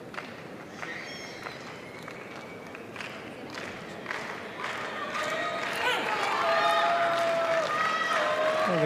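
A karate tournament crowd at a world championship bronze medal session cheers and shouts, the noise building steadily louder toward the end, with scattered claps, whistles and talk mixed in.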